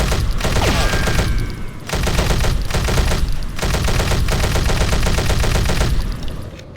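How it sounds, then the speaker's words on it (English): Gunfire from the weapons in the video game Breed: dense, rapid bursts of shots that run almost without pause, loud and close, broken by a few brief gaps. "The guns sound generic, the classic bang and whoosh you'd find in an old shooter."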